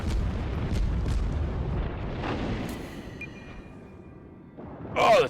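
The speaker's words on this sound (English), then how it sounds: "the torpedoes just missed him" In a naval warships video game, heavy booming blasts rumble low and loud at the start, then fade into a quieter stretch that ends with a sharp, bright burst near the close.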